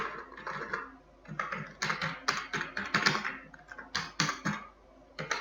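Steady bursts of typing on a computer keyboard, close and clear, with irregular clusters of key clicks and short pauses between words as text is entered into an Excel spreadsheet.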